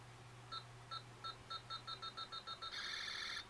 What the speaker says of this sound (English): His laser, of course, works.